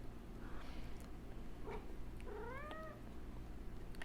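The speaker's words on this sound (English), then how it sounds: "my cat's coming up" A domestic cat gives a single rising-and-falling meow near the middle, fairly quiet and close, over a low steady background hum.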